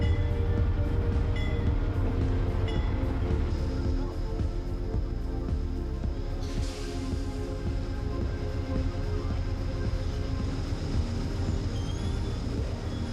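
An Amtrak passenger train rolls to a stop at Milford, giving a continuous low rumble of rail cars with squeaks and brake tones over it, steady and fairly close, with a brief higher burst midway.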